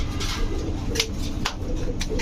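Pigeons coo at a busy pigeon market in Bangladesh, soft low murmuring calls layered over a constant crowd hum, with a few sharp bursts like wing flaps or handling noises.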